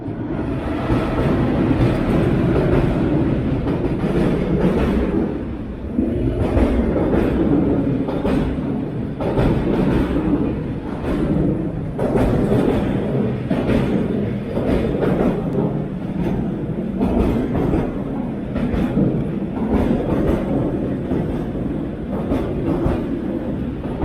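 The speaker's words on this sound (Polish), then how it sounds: "O, jedzie pociąg." A train rolls past on the rails nearby, loud and sustained, with rhythmic clickety-clack from the wheels over the track joints continuing for the whole pass.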